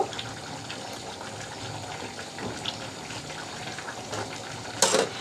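Liquid poured into a simmering broiler chicken curry, village style, to thin the gravy: a steady, close gushing pour of moderate loudness with a brief louder splash near the end, no voices.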